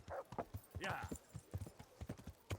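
Rhythmic clip-clop of horse hooves trotting at a steady pace in the video game Kingdom Come: Deliverance, fairly close, with a voice speaking over part of it.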